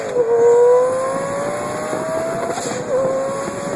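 A twin-turbo Lamborghini Gallardo Spider making 1250 horsepower, with a manual six-speed gearbox, roars loud and close, its engine pitch climbing steadily, then dipping at a gear change before rising again.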